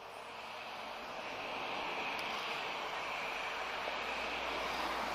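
Boeing 777 airliner at Lisbon Airport, its engines a steady broadband roar heard from a distance that swells gradually through the clip, with no talk over it.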